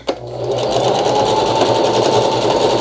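A sewing machine zigzag back-stitches double-layer satin for a bonnet, its motor running at a steady fast whir with a rapid mechanical needle patter. The sound is close, loud and continuous, with no talking.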